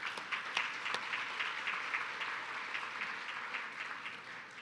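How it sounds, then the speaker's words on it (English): Steady audience applause fills the room at a workforce forum, dense, even clapping from a large crowd that holds at a constant level with scattered sharper claps and no talking. "give yourselves a round of applause for all the work that you've been doing"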